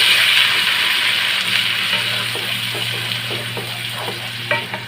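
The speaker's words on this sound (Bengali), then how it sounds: "এক মিনিট মতো কিন্তু এই পেঁয়াজের পেস্টটাকে নেড়ে চেড়ে নিতে হবে" Onion paste fries in a pan and is stirred with a spatula, giving a loud, steady close sizzle with soft scraping strokes repeating throughout.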